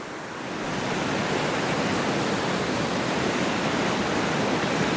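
A running stream flows steadily and loudly, a dense continuous hiss and roar swelling in during the first second, with no voices, outdoors in Washington State.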